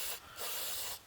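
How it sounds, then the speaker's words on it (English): Aerosol cleaner sprayed onto Ford Focus RS spark plugs in two hissing bursts, a short one then a longer steady blast, loud and close with no talking. "Just spray them with this cleaner here that I've got."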